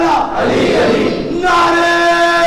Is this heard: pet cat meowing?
no